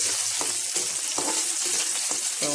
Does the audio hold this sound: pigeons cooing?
no